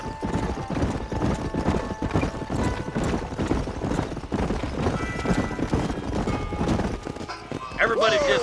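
Horses in a Red Dead Redemption Western scene clop along with dense, rapid hoofbeats and a whinny near the end, under a busy mix of game sound and voices.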